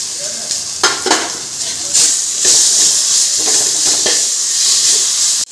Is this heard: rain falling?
no